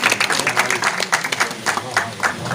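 An audience at a turban-tying ceremony for poets keeps up a dense, loud round of clapping, steady overlapping handclaps with a voice faintly underneath.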